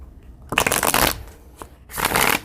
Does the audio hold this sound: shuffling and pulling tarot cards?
yes